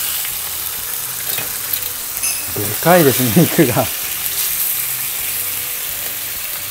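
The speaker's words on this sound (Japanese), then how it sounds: "で、薄めのお肉焼くときはこの音が大事です。" Beef shoulder loin steak sears in olive oil in a hot pan with a steady, loud sizzle and crackle, while a person speaks briefly over the frying.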